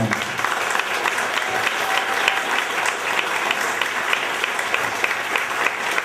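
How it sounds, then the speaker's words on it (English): Audience applause for a panel at a community event, a dense, steady round of clapping that holds at even loudness for several seconds with no speech over it. "let's have one more round of applause for the panel"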